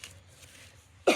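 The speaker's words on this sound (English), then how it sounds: "Sorry if I'm coughing too much." A single short, sharp cough bursts out near the end after a quiet stretch of low background hum.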